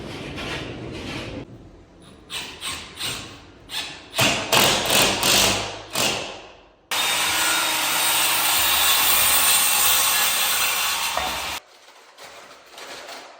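Drywall being torn down from a wall during a home renovation: a run of rough thumps, cracks and scraping tears, then several seconds of loud continuous crumbling and ripping before it stops abruptly.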